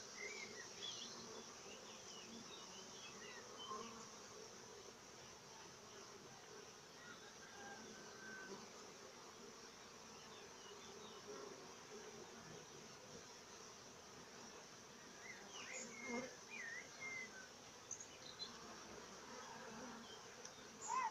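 Honeybees buzzing in an opened hive during an apiary inspection, a continuous, even droning hum that stays faint and steady throughout, with no voices.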